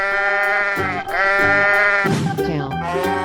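A cartoon sheep bleats in an animated children's animal crossing game, wavering, quavering calls repeating over upbeat background music, loud and up front.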